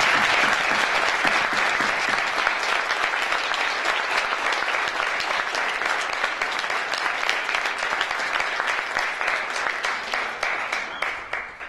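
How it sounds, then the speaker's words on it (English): A large audience at a school hall of fame ceremony applauds continuously and loudly for an honored educator, sustained clapping that thins slightly near the end. "Please give a huge round of applause to one of your finest educators"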